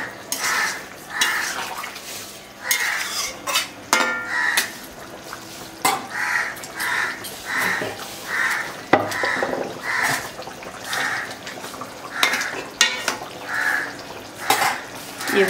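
Boiled potatoes go into a pot of country-chicken curry with repeated clinks and scrapes of a spoon against the metal pot, set in steady rhythmic bursts over a faint simmer.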